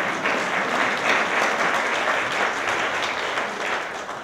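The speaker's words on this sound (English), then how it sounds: "We can clap for him too" Audience applause at the 2015 Mayor's Community Service Awards ceremony as a recipient is called up to the stage, a full, sustained round of clapping filling the room without speech.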